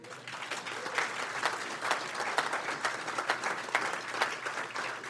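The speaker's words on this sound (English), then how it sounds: "Round of applause for them." Applause at a city council meeting: a crowd claps steadily for the local police department, a moderately loud, crackling wash of hands with small rises and falls, no talking over it.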